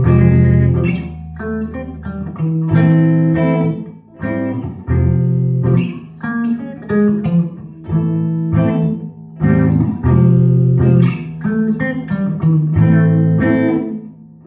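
Clean electric guitar plays a riff without distortion, close and loud, repeating in a rhythmic pattern of plucked notes and short chords with brief pauses; no talking.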